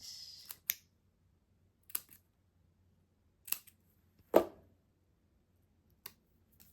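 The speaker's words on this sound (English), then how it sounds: "Okay, so I'm gonna cut this and then I can layer it with little banners." Scissors cut patterned paper for a card banner in a quiet room, giving a handful of sharp, separate close snips spaced a second or so apart with no talk.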